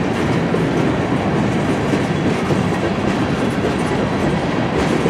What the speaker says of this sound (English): Just a really long train.